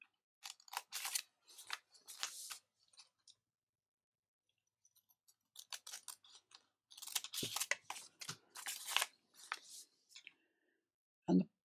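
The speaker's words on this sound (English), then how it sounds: "So I'll just cut these out." Scissors cutting out paper shapes for a lapbook, close and quiet, in several bursts of short crisp snips with a pause in the middle and a soft thump at the end.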